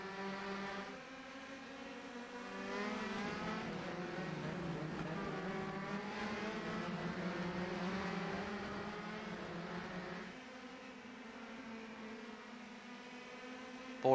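Several race cars in a racing video game roar past close together, a steady high engine whine with shifting pitch, loud and continuous, dropping slightly near the end.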